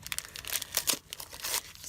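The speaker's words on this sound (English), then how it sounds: "Now this one is a tag pack. Oh my. All right, let's rip into this." Plastic packaging of a Spellbinders tag pack being ripped open, loud crinkling and tearing in quick irregular bursts, very close and alone.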